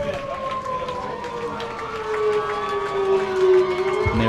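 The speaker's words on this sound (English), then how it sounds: "You hear that infamous siren." A stadium siren wails at a high school football game as the home team readies to run out of the tunnel, its long rising and falling tone carrying over distant crowd noise and an announcer's voice.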